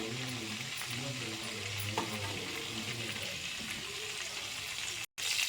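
Silver fish fry in hot oil for a Nellore-style curry, giving a close, steady, crackling sizzle that runs on evenly before a brief dropout and then resumes.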